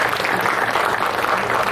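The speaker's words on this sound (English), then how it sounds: "Let's give Gary a hand" Audience applause at a high school dedication ceremony honoring the 1985 state championship team, a steady dense clapping that fills the whole moment without any voices over it.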